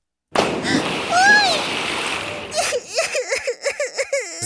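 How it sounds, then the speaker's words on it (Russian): A large stone plunges into a river in a children's cartoon, giving a loud, sudden splash with a long rushing spray, followed by a lively cartoon voice giggling or babbling. "заставила взять большой камень и сильно бросить его в реку"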